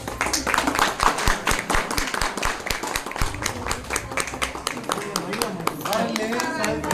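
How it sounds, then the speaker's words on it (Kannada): A crowd claps at an outdoor event for the Karnataka Rajyotsava celebration, with dense, energetic applause throughout and voices talking and calling out over it. "ಚಪ್ಪಾಳೆ."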